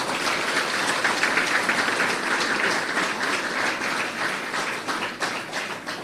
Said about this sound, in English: I will know if you agree with me if I hear a hearty round of applause for Vyasji.